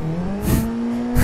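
A 333hp Nissan 180SX drifting on the Tamada track, its engine holding a loud, steady drone that climbs in pitch, with hissing bursts of tire noise as the car slides.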